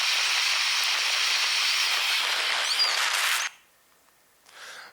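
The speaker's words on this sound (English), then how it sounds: "this is a little geothermal vent near Krafla volcano, and you get a sense it's steaming away permanently" A geothermal vent near Krafla volcano in Iceland steams continuously, a loud, broad, airy hiss that holds steady for several seconds, then drops away abruptly, leaving near silence before a fainter hiss returns.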